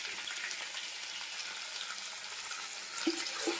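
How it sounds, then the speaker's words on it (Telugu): Chicken pieces for a spicy pulao hiss and sizzle steadily in a hot pan, with a soft, even frying wash and a couple of light clinks near the end. "చికెన్ యాడ్ చేస్తున్నాను."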